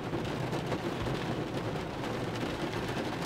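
Steady rain falling outdoors during an Oklahoma thunderstorm, a dense continuous hiss of drops with low rumbling thunder mixed in, constant and fairly close, with no talk.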